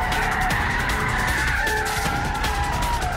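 A Mitsubishi Evo FQ360 spins all four wheels and skids, its engine roaring steadily under a continuous tire squeal. The sound stays loud and close throughout, with no talking.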